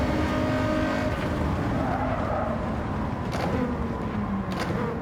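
Race cars, including an RX-7 and a Supra, in a racing video game, their engines droning loudly and continuously with occasional tire squeals.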